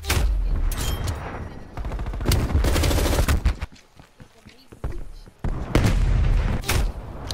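Minigun firing in a multiplayer video game, long dense rattling bursts of rapid gunfire with brief pauses between, loud and close, with a voice speaking over it.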